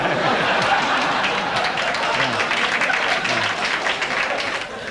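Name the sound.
audience applause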